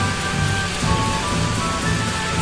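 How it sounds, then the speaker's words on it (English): Heavy rain in the video game Tales of the Abyss, a constant close hiss of falling water with faint sustained game tones running underneath. "Oh my god, it's raining pretty bad."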